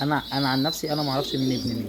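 Pigeons in a loft coo in low, rhythmic throaty phrases, several close-up calls repeating over about two seconds while someone talks over them.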